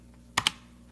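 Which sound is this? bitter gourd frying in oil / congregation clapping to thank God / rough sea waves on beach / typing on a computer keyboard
typing on a computer keyboard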